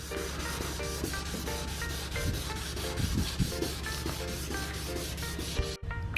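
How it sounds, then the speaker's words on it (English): Sandpaper rubbing back and forth on a car headlight lens in steady, rhythmic strokes, close and continuous, with the wet scrubbing sound filling the scene before a brief stop near the end. "you're gonna go ahead and start sanding here"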